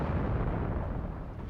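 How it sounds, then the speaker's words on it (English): Fireworks bursting in a video game, a dense continuous rumble of booming explosions, loud and close throughout with no talk over it. "Fireworks! Doesn't that sound lovely?"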